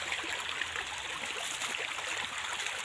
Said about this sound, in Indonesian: kali ini aku berada di sungai